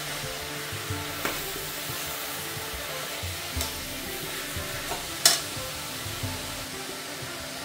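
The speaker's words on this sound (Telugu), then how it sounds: "తోటకూర అంతా దగ్గర పడే వరకు ఇలా అడిగంటకుండా కలుపుకుంటూ ఉండాలి." Amaranth greens frying in an open pan while being stirred continuously, a low steady sizzle broken by scraping and clacking spoon strokes against the pan.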